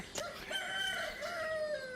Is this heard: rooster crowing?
yes